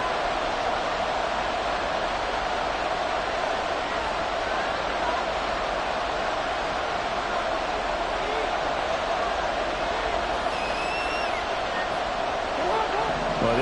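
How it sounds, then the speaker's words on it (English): A Philadelphia football stadium crowd roars for third down, a dense, steady wall of cheering and noise that holds throughout, with faint whistles high above it. "you don't have to beg the Philly faithful to make noise"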